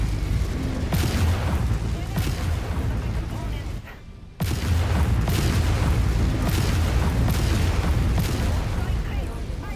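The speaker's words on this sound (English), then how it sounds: "Incoming missile." Heavy booming missile impacts and artillery-like blasts from a modded Mechwarrior 5 battle roll on loudly and continuously, with a sharp drop to near silence midway before the barrage resumes.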